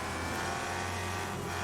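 An American muscle car engine revs hard in the racing video game Wreckfest, a loud, steady mechanical roar with a gritty high-pitched whine, racing along without pause.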